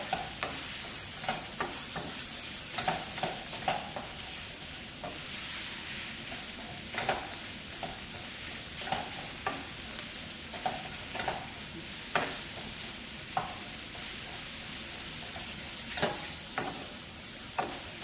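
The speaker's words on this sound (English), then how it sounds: "I'm going to stir it until everything is mixed together." Indomie noodles and meat stirred in a frying pan, a steady sizzle running throughout with repeated scraping strokes of the utensil against the pan at a regular rhythm, close and clear, no talking.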